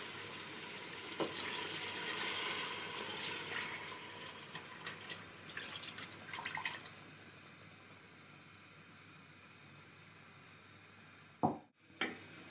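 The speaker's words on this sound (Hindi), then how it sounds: "वो यखनी भी अब हम इसमें शामिल कर देंगे" Beef trotter stock poured into a cooking pot, a steady splashing pour that fades out after several seconds, followed by quiet and two brief clanks near the end.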